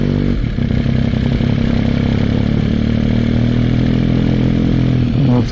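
Motorcycle ridden slowly on a road during a training ride, its engine a loud, steady close drone with mechanical clatter throughout and no talk.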